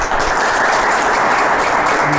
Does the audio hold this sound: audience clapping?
yes